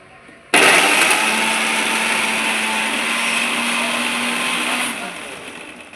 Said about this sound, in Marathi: आम्ही आता मिक्सरमध्ये ज्यूस बारीक करणार आहे